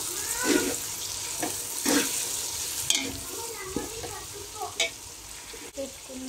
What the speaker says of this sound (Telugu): ఇవన్నీ యాడ్ చేసుకున్నాక జస్ట్ అట్లా మిక్స్ చేసుకోవాలి ఆయిల్లో.